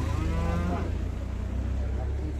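Cattle low at a livestock market in Osh, Kyrgyzstan, with a long, loud, near moo over a steady crowd murmur.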